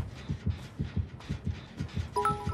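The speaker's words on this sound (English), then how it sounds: "As soon as we hear two heartbeats, we'll have to go back to Victor, probably" A repeating heartbeat warning from the video game Dead by Daylight plays as a steady double-thump rhythm, loud and close, with a tonal electronic chime coming in near the end.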